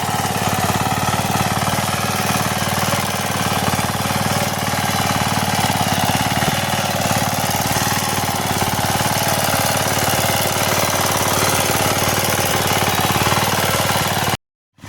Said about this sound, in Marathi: मशीन आपली चालत आहे